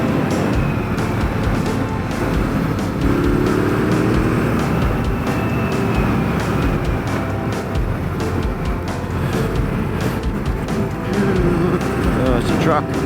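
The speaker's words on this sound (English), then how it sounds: "Oh, it's a truck." A truck passes along a road through the Flinders Ranges, heard from a motorcycle as a steady broad engine and road roar that swells and fades, with rider talk over it throughout.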